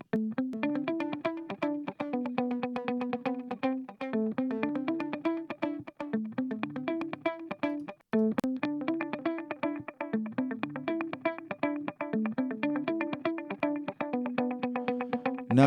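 Electric guitar runs through a PreSonus analog delay plugin set to dotted-eighth repeats, carrying a continuous picked pattern with echoing trails and a brief break near the middle before the phrase starts again.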